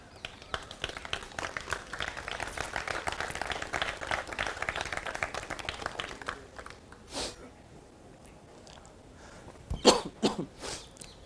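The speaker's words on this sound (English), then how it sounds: "I've been coughing profusely now" Broadband crowd-like noise swells for several seconds at a college festival stand-up comedy show, then fades to quieter sounds, followed by a few sharp bursts near the end that resemble coughs from a performer with a bad cold.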